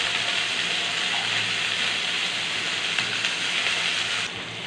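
Chopped onions and green chillies frying in hot oil, a steady close sizzling hiss that holds evenly throughout and drops slightly in level near the end.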